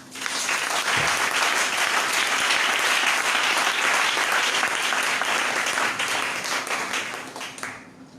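A church congregation applauds and cheers in a dense, sustained wash of clapping that swells quickly, holds for several seconds, then tapers off near the end.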